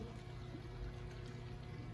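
Gasoline pouring from a bottle into a small makeshift fuel tank in a garage, a quiet steady trickle and dribble lasting under two seconds, heard alone without talk.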